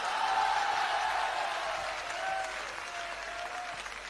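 Audience applause after a Hindi poem recital, a dense, sustained wash of many hands clapping together that stays loud throughout and eases slightly toward the end.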